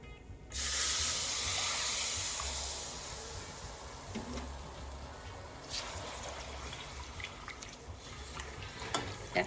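A cup of milk poured into a hot butter and flour roux bursts into a sudden loud sizzling hiss that slowly fades to a softer bubbling simmer.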